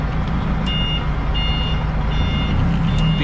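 A vehicle's reversing beeper sounds outdoors in a repeating series of steady electronic tones, moderately loud over constant low engine rumble and ambient noise.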